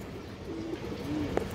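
Pigeons of fancy breeds, including pale-eyed hens, give a few soft low coos close by, each a brief hum standing alone over a quiet, steady background.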